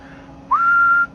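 A single steady whistle held for about half a second into a D104 microphone on a Cobra 25 LTD Classic CB radio, sliding briefly up in pitch before settling, clear and alone over a faint low hum.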